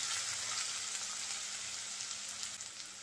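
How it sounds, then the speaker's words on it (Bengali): Onion frying lightly in oil in a pan sizzles with a steady, soft crackle, close and continuous with no voices, while a fish-tail bhuna bharta is being cooked. "পেঁয়াজটা আমি হালকা ভেজে নিয়েছি।"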